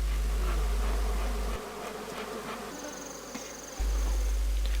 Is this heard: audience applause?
no